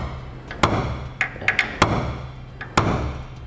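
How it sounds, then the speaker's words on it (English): Hammer striking a center punch held in a hole in a truck frame, marking a spot for a pilot hole: several sharp metallic taps at irregular intervals, close and fairly loud, with no talk. "Take a center punch, stick it in the hole, and we will make a mark"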